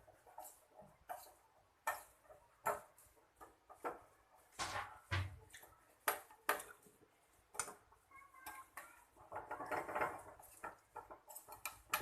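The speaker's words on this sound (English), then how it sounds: "Now I am adding dry grapes." Dry grapes being added to carrot halwa in a pan, with a string of light clinks and taps of spoon and raisins against metal, close and quiet, irregular throughout with no talk.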